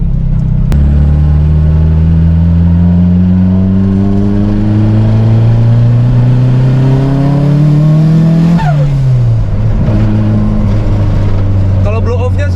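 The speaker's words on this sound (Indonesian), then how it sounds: "Kalau blow off-nya suaranya yang Tile itu enak ya, suaranya beda ya." Nissan Silvia S13 engine revving up steadily with a climbing roar, then dropping off with a sharp turbo blow-off hiss before settling back to idle, loud and close, with people talking underneath.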